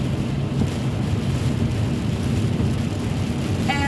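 Steady rain heard from inside a moving car, a dense, even wash of noise with a low rumble that holds unbroken for several seconds, with a brief higher tone near the end.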